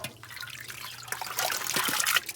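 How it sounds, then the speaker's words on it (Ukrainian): Water pours and splashes into a barrel of homemade liquid fertilizer, a close trickling flow that grows louder and more turbulent toward the end, without talk. "Тепер знову сюди додаю води до повного, гарно перемішується"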